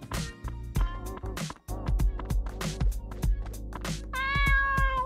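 Cartoonish cat meows repeat in quick succession in the video game Dave the Diver, loud and close, over steady game music with percussive beats.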